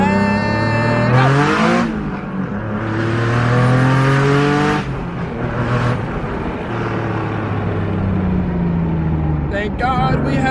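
A car engine revs hard and climbs through several gears, each pull rising in pitch before a quick shift, loud and close throughout.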